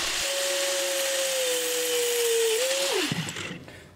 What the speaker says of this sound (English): I'm struggling with my angle grinder because somebody used it and set it up for a lefty